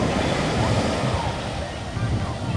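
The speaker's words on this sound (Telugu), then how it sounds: "పాండిచ్చేరి మెరీనా బీచ్" Ocean waves wash in steadily at Pondicherry Marina beach in a continuous broad roar, with wind buffeting the microphone throughout.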